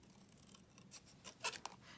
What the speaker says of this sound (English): And cut this one out.